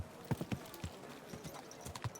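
Horse hooves clip-clop along a town street in the video game Kingdom Come: Deliverance II, an uneven run of quiet, close footfalls without speech.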